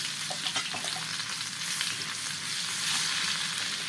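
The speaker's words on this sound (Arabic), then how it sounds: "هنعمل تقليه للقلقاس. حط شويه ثوم مع حته زبده وحبه زيت" Garlic sizzles in butter and a little oil to make a fried topping for taro, with a steady bubbling hiss and a few light stirring clicks near the start that swell slightly later on.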